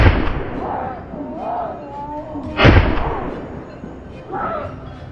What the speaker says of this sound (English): With a thunderous gunshot, the boar collapsed to the ground